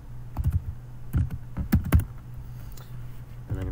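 Keys clatter in quick, irregular bursts on a computer keyboard while an email is typed, close and fairly loud, with pauses between words.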